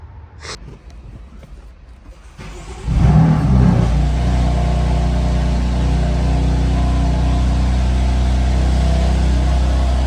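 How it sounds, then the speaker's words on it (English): After a few seconds of quiet clicks and shuffling, a salvaged 2015 BMW M4 engine starts and settles into a loud, steady running rumble that continues to the end. "let's pull this car out and give it a nice wash"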